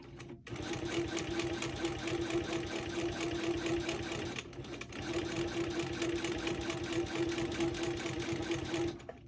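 A sewing machine quilts past a registration mark in steady, fast continuous stitching, loud and close, running about four seconds, pausing briefly, then resuming at the same even pace.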